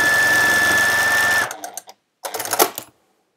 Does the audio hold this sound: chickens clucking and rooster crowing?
no